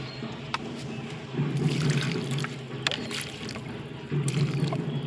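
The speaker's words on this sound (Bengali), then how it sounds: "ভর্তি করে জল দিয়ে দিলাম।" Water is poured into the soil of a potted Euphorbia milii (crown of thorns), a soft, close trickle and splash that swells and eases twice over a few seconds.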